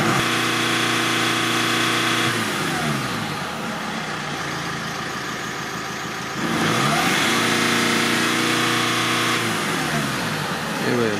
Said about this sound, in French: Je vais accélérer à fond.